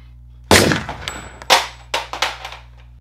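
Several sharp gunshot bangs go off in a comedy skit, a loud first crack followed by a ragged string of shots and metallic clangs spread over a few seconds, with no talking.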